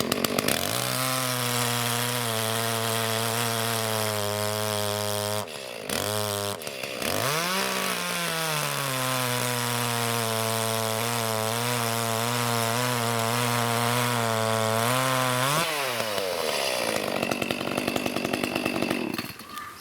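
Ozito 36V battery chainsaw and a petrol chainsaw cutting through wood, a loud steady engine whine holding for most of the cut with two brief drops, then winding down near the end.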